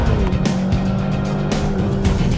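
Racing motorbikes lined up for a simulated race start during a Mandalika circuit track day, engines revving together in a dense, steady roar with a few sharper throttle blips over the drone.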